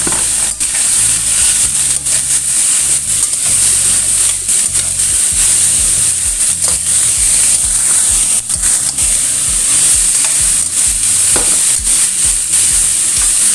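Sliced chayote being stir-fried in a pan, with a loud, steady sizzle and hiss throughout and repeated scraping and clacking of the utensil against the pan, no voices.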